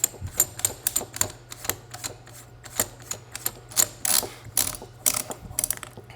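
A wrench ratchets on a Typhoon F12 Sport shotgun during reassembly, a rapid series of close, crisp metallic clicks in quick irregular bursts with brief pauses between.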